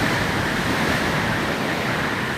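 Large ocean waves, around ten metres high, crash against a coastal breakwater near Portofino in a continuous loud, dense roar of surf and spray, with no pauses and no voices.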